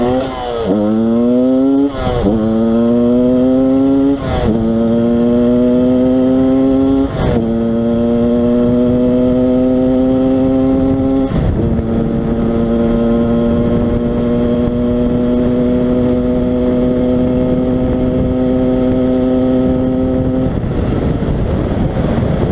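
A Yamaha DTR 125 two-stroke motorcycle engine, an endurised YZ-style trail bike with stock exhaust, loud and close, rising through several gears with sharp shift breaks, then holding a steady drone before easing off.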